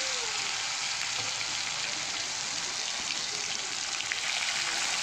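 Ginger-garlic paste sizzling with nigella seeds in leftover frying oil, a steady, loud, close hiss of frying that runs unbroken throughout with no talking.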